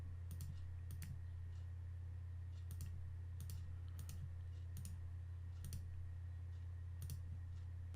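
Mouse clicks while outlining a tomato with Photoshop's polygonal lasso tool: about nine sharp, close clicks at uneven intervals over a steady low electrical hum, with no talking.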